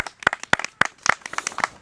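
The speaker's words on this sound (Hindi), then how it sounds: "भैया खिलाने के बाद जोरदार तालियां बजाएं" A small audience at an eating challenge gives a few seconds of uneven applause, the separate claps sharp and close, with a light crinkling texture.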